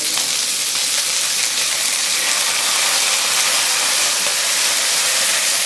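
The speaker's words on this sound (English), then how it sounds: "I like to cook the hot sauce a little bit" Hot sauce cooking in a pan gives off a steady, loud, bright sizzle that holds unbroken throughout, with no voices.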